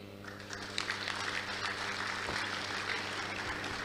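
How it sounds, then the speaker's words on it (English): Conference audience applause at a surveyors' annual general meeting in Enugu, a soft continuous patter of many hands clapping, fairly distant and even throughout, with a low hum underneath. "Can we give her another round of applause, please?"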